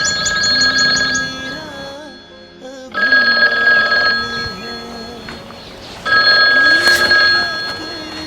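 A telephone rings with an incoming call at an army post, sounding in loud repeated bursts with short gaps between them and music playing underneath.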